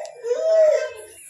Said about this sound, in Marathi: त्याला लागला रडायला